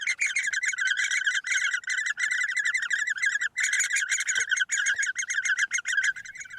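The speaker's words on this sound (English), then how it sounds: "One chick is always on chirp guard, calling out at the entrance to the nest, urging the parents to stay close and keep delivering food." Great spotted woodpecker chicks call from their nest, a dense, continuous, high-pitched chirping that runs almost without pause, loud and close.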